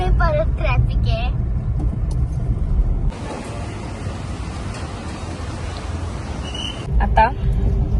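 Road traffic heard from inside a moving vehicle in congested traffic: a steady engine and tyre rumble runs throughout, with horn-like tonal blares near the start and again near the end.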